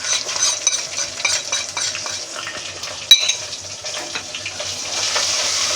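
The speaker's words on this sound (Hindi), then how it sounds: "इसको सिर्फ 4-5 सेकंड इस तरीके से भूनेंगे" Ginger garlic, chili flakes, salt and cumin frying in hot oil for an aloo salan, a crackling sizzle with spoon scrapes and one sharp metallic clink partway through.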